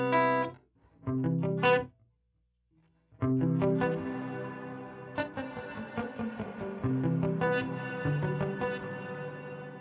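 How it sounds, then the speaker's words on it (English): An electric guitar runs through a POD Go multi-effects unit with reverb and modulation. A few plucked notes come first, then a pause, then fuller strummed chords with a wide, shimmering chorus and long reverb tails, played alone. "So it's a good amount of reverb"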